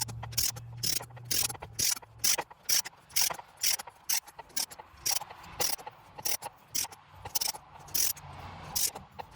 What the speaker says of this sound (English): Here we are torquing the PCV valve adapter to 15 foot-pounds to the block.